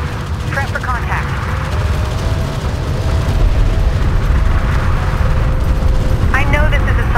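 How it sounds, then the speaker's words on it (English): Railguns and explosions thunder through a Homeworld: Deserts of Kharak desert battle, with dense continuous low rumble and booming, mechanical whine and tonal game effects layered throughout, while a radio-style voice briefly talks over the din. "Hostile railguns have opened up"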